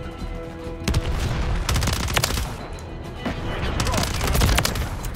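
Rapid gunfire from the Grau 5.56 rifle in Modern Warfare 3, repeated sharp bursts of shots over a dense background of game battle noise, loud and close.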